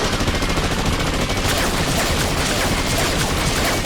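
Rapid gunfire bursts crackle continuously in an animated fight, dense and loud, with voices faintly underneath.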